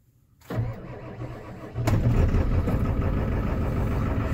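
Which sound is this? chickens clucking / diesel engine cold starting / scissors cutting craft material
diesel engine cold starting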